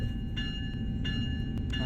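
Train braking to a stop in Train Sim World on the Northeast Corridor in New York, a steady low rumble with faint high squeals and light clanks, no talking.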